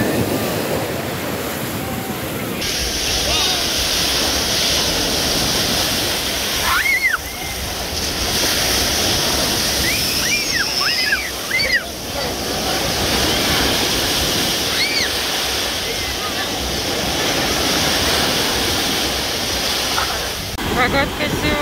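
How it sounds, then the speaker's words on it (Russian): Sea waves on a crowded beach at Golden Sands, Bulgaria, on a rough late-August day: a continuous loud surf roar with wind buffeting the microphone, and faint distant voices or calls now and then. "Эти волны, шум."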